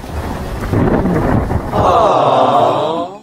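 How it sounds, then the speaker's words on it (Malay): Heavy rain falls steadily with deep rumbling of thunder, loud and close, the downpour roar swelling in the second half before cutting off near the end. "Kan hujan di sini lebat."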